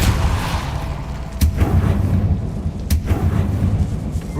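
Spell impacts in the Hogwarts Legacy video game, two sharp booming bursts about a second and a half apart over a dense, loud rumbling game background.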